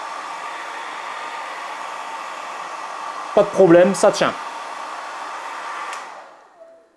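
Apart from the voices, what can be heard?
hair dryer running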